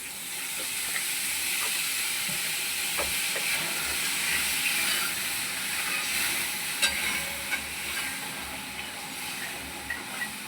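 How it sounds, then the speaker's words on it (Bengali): Water poured into a hot pan while making chicken curry sets off a steady, close sizzle and hiss that holds for the whole stretch, with faint scattered clicks and no talking. "রান্নায় জল ঢেলে দেওয়ার মতো।"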